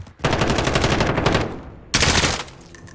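Automatic gunfire in a Call of Duty multiplayer match, a loud close burst of rapid rattling shots for over a second, a brief pause, then a second shorter burst.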